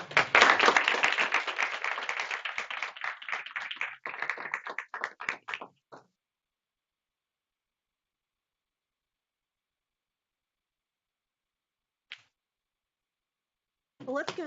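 Audience at a community health presentation applauds a speaker, close clapping that thins and stops after about six seconds, followed by silence and a brief voice at the end.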